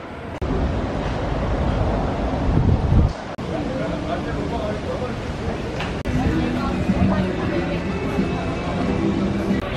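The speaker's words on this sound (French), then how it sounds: "vous voyez le vent là" Gusty wind buffets the microphone outdoors in Çanakkale, a continuous rough rumble with a voice speaking over it.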